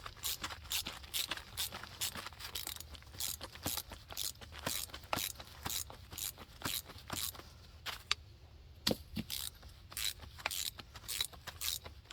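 A hand ratchet tightens the nut on a Jeep XJ rear shock absorber, giving a steady run of sharp, close metallic clicks in quick repeated bursts with a short pause midway.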